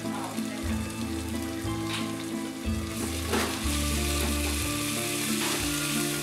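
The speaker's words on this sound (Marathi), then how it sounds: "सतत 5 मिनिटांपर्यंत तरी हा खिमा असाच भाजत रहा" Marinated minced meat (kheema) frying in ghee for a pulao, giving a loud, steady, close sizzle with crackling and the scrape of stirring, while background music plays throughout.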